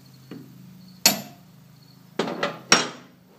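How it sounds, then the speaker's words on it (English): A brass hammer strikes a steel transfer punch, marking holes for mounting a valve on a portable hydraulic press in a metal shop: one light tap followed by three sharp, ringing metallic hits close to the microphone. "I have the right size transfer punch in there, got my brass hammer."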